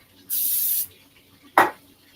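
A short hissing burst of cooking spray coats a waffle iron, lasting about half a second, followed a moment later by a louder single clunk or tap against the appliance in an otherwise quiet kitchen.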